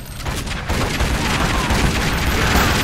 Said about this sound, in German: ich werfe da mal eine Granate hin und baller den da oben ab